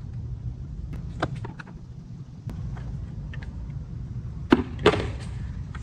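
Plastic clips pop and snap as a front bumper end cap is pinched and pried off a 2022-2023 Toyota Tundra, a few sharp close clicks and scrapes over a low background rumble.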